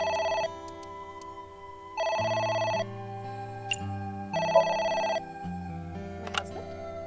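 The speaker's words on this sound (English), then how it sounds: "Oh, It's the phone." Telephone ringing inside the AI: The Somnium Files video game, a steady electronic ring in three even bursts with gaps between them, over a low game music bed.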